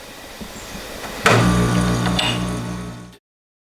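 A glass grinder starts up partway through, giving a steady motor whir with faint grinding while fitting glass; it runs loud and close for about two seconds, then cuts off abruptly into silence.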